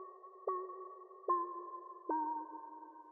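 Synth oscillators run through a resonant low-pass filter, a sustained tonal drone with three sharp pitch jumps spaced roughly evenly, each step pushing the tone into a new held note, steady and fairly quiet with no voices.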